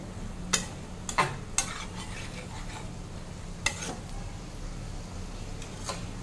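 Chicken pieces are stirred in a pan of honey garlic semi-gravy, with a soft steady sizzle broken by a handful of sharp spoon scrapes and taps against the pan, close up and without speech.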